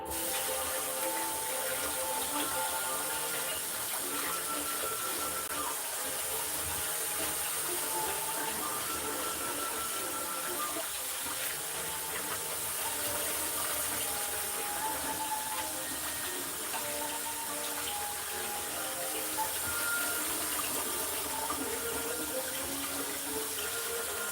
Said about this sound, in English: I don't typically rinse mushrooms, but these I am going to rinse.